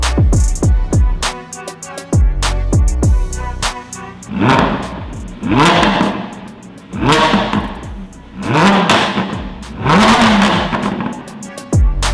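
A Lamborghini Huracan fitted with an Akrapovic slip-on titanium exhaust fires up with sharp cracks, then revs in a series of loud rising and falling blips close by.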